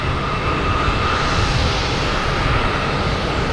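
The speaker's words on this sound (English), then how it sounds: "we have a Southwest coming in from Denver" Southwest Boeing 737 arriving at Boston Logan on a flight from Denver, a steady, broad engine roar holding loud and even throughout, with no voices over it.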